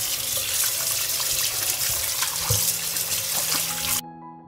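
Tomatoes washed under a running kitchen tap, a steady loud splash of water into a sink that stops abruptly near the end.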